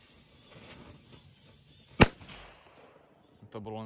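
A firecracker, an FP3 New banger, goes off with a single sharp, loud bang near the middle, preceded by faint crackle and hiss; a voice starts talking just after.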